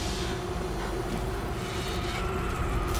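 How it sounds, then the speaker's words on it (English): A train starting up in the zombie shooter World War Z's New York level, a steady loud mechanical rumble and hum of rail machinery running throughout with no voices. "Start up the train!"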